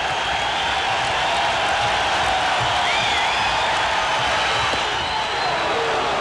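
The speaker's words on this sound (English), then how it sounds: "The crowd yelling again for him." A large baseball stadium crowd roars and cheers steadily as a broad, continuous wash of noise, with no distinct voices standing out.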